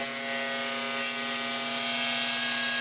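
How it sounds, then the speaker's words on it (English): A table saw blade rising through a wooden throat plate insert to finish cutting its slot makes a steady, close, high-pitched tonal whine that holds evenly and then stops abruptly at the end. "I can drop it all the way down and complete the cutting of the slot"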